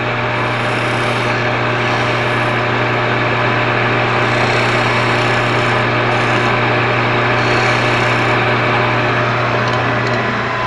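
A wood lathe spins a wetted piece as a tool recuts it, giving a loud, continuous scraping rasp over the motor's steady hum, with slight swells in the cutting noise and no talking.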